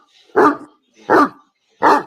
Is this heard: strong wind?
no